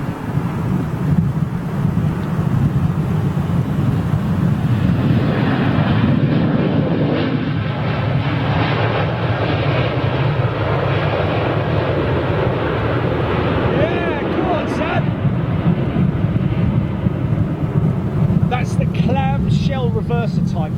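An airliner lands at windy London Heathrow and deploys its clamshell thrust reverser, giving a loud, sustained roar of engine noise buffeted by wind on the microphone, close and continuous throughout.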